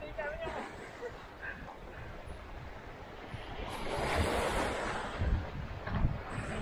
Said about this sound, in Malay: Oh, angin padu, angin padu.